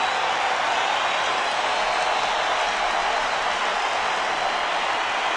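Friday night baseball stadium crowd on its feet at a Giants–Dodgers game, a dense, steady roar filling the whole clip without breaks, loud and sustained with no talk over it.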